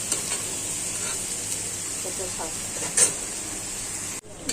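Vegetable bhaji sizzles steadily in a pan with a constant frying hiss, broken by a few clinks and scrapes of stirring, close and fairly loud.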